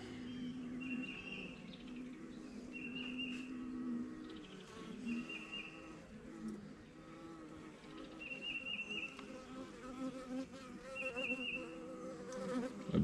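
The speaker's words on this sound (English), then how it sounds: "Bunch of little baby bees." Honeybees buzz softly in an open hive during a frame check, a faint, steady hum with brief higher whines from individual bees passing near, and no talking.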